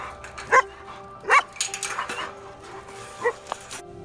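Dogs bark in three sharp, loud bursts at a place where dogs are cared for all day, with quieter rustling and shuffling between the barks.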